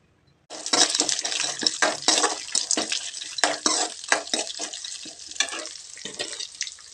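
Curry leaves and tamarind hit hot oil in a pan for coriander rice, bursting into loud crackling sizzle with sharp spits and pops that settle into steadier frying.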